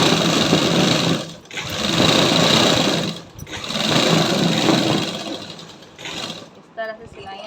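A sewing machine stitches the leg cuffs of a salwar in three loud, close runs of fast whirring, each stopping briefly between bursts. A voice may be heard faintly at moments.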